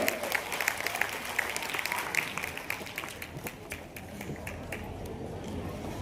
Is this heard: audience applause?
yes